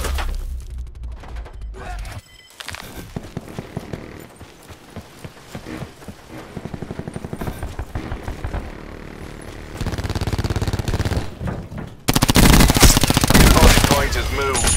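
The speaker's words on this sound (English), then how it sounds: "Sentry turret." Rapid automatic gunfire from a sentry turret in the Black Ops 4 video game, loud bursts layered with other combat sounds and effects, growing more intense toward the end.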